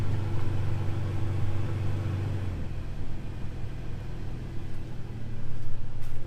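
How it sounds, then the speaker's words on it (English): A Toyota Tacoma pickup idling after a brake and reverse light replacement, a steady low engine rumble heard close and continuous with a slight hum shift partway through, no talking. "The truck running."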